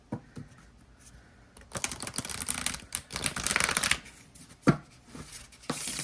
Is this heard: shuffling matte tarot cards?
yes